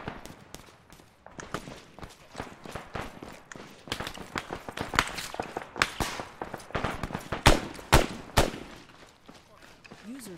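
Gunfire crackles through a firefight in the ArmA 3 military game, with irregular sharp shots, some single and some in quick bursts, of varying distance and loudness throughout, and a few louder cracks close by.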